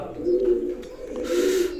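Teddy pigeons of a KTM import line cooing up close, two soft low rolling coos in quick succession with a faint hiss of background noise.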